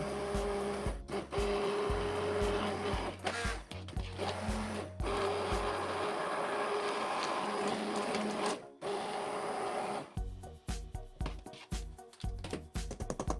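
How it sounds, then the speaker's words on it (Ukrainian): A loud motorized whirring grinds steadily, pulsing and shifting in pitch as a blender blade churns thick currant berry mixture, with brief pauses between bursts. "І перебиваю все блендером до однорідної маси."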